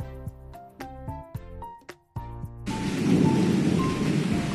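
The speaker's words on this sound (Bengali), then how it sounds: "তো বৃষ্টি হচ্ছে, ঝমঝম ঝমঝম করে বৃষ্টি হচ্ছে, অনেক অনেক বৃষ্টি হচ্ছে।" Heavy rain falling in a steady, loud hiss that begins abruptly partway through, after a short passage of music with separate tones.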